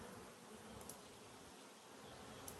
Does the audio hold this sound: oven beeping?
no